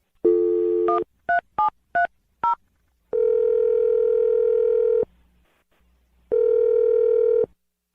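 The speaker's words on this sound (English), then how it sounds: "We're going to dial the phone number right now and try and resurrect your second date update" A telephone sounds a steady dial tone, then a quick run of five short touch-tone beeps, then two long unbroken tones with a short gap between them, all clear and close with nobody talking.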